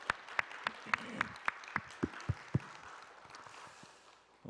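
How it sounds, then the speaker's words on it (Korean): A church congregation claps for the choir: about ten sharp, evenly spaced claps in quick unison rhythm, fairly close, then the sound trails off into quiet room noise. "우리 사랑과 우리 경배와 격려의 박수로 같이 한번 박수하겠습니다"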